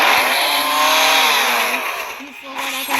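A chainsaw revs in the video game Anime Power Tycoon, a loud, harsh, sustained motor whine that rises and falls in pitch, dipping briefly before surging again.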